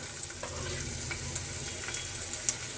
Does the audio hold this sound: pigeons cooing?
no